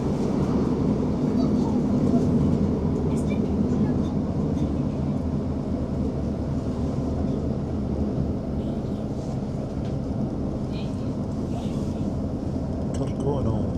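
A ScotRail Class 156 diesel train runs through the Nith Valley on the Dumfries to Glasgow Central line near Kirkconnel, giving a steady, loud, low rumble that fills the whole stretch without pause.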